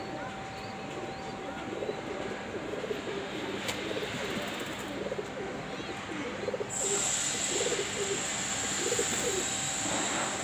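Pigeons coo in soft, repeated low rolling calls, a steady series of murmuring phrases over faint background noise, with a brighter hiss joining partway through.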